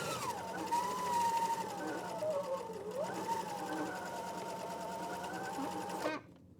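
A sewing machine runs steadily along the edge of a square pillow seam, its motor whirring with a wavering pitch for about six seconds before stopping abruptly.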